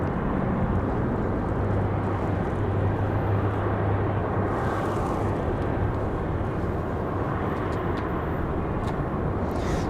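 An Airbus A220-300 arrives at Raleigh Durham airport, a broad, steady jet roar at moderate distance with a faint engine tone underneath, sustained throughout without voices.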